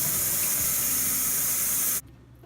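A kitchen sink tap runs hard over lettuce being rinsed to wash out sand, a loud, steady rush of water close by that cuts off abruptly near the end.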